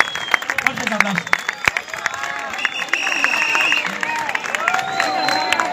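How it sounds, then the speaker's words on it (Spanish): Outdoor crowd at a 2022 carnival murga stage show in San Martín de los Andes claps and cheers steadily for the performers, a dense wash of applause with scattered shouts and whistles throughout. "A ver, fuertes aplausos para esos pibes que lo llevan todo."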